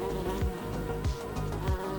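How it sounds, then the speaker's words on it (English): Wasps buzz steadily and close by around a wasp nest at Lake Livingston State Park, with a few louder passes swooping in and out over a continuous drone. "it's getting attacked by those wasps"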